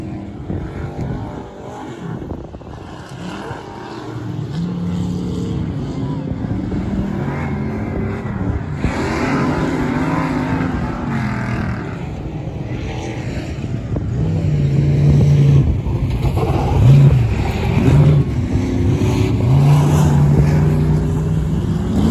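Third-generation Chevy Nova off-road race car runs in an off-road race, its engine roaring loud and close with rising and falling revs and rough rattling throughout.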